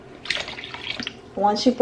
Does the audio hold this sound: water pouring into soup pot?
yes